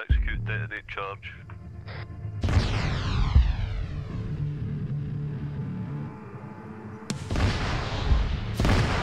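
A detonated charge explodes in the military shooter game ArmA 3 with a sudden loud broadband blast that rumbles and decays, then a second sharp burst follows several seconds later. Radio voices talk beneath the combat sounds.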